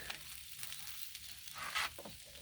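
Ghee sizzling and frying on a hot griddle with salt, pepper and minced garlic, a steady soft crackle with a brighter burst of sizzle near the end.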